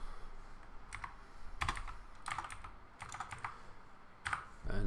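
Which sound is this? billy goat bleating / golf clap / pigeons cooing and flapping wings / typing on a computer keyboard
typing on a computer keyboard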